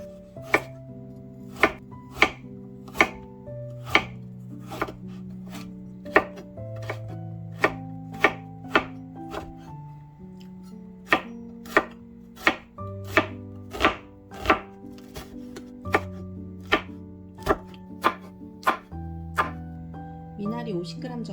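Minari (water dropwort) sliced into short 2–3 cm pieces with a knife on a cutting board: a steady run of crisp, evenly spaced chops, close and fairly loud, over a bed of soft background music, with no talking.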